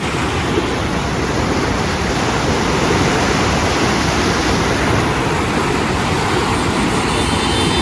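Loud, steady roar of the flooded Sutlej River rushing in full flow fills the whole clip, a constant broadband wash, with no voices.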